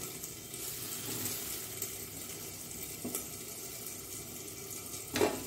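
A thin dosa frying on a flat pan with oil and ghee, a continuous soft sizzle with a brief louder spatter near the end, no talking.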